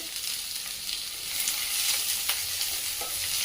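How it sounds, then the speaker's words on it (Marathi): Sliced onion sautéing in a pan with curry leaves and green chillies, a steady close hiss of frying with light stirring scrapes throughout. "कांदा चांगला परतून घ्यायचा आहे"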